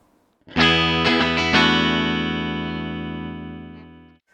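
Distorted electric guitar chords ring out through a combo amp with its bright switch off, a few quick strums then a sustained chord slowly decaying, warm and somewhat dark in tone.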